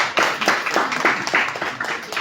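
Applause from an audience at a political speech in Côte d'Ivoire about rural land law, a dense burst of many hands clapping with uneven, rippling peaks for about two seconds, moderately loud with no voices over it.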